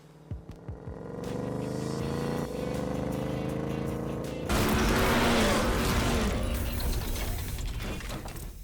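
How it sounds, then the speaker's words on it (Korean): A Ford Mustang GT with a 5.0 V8 idles with a steady, deep exhaust drone, then breaks into a louder, rough roar that holds before easing off slightly, close and with no talk. "일단은 배기 사운드 먼저 듣고 가시죠."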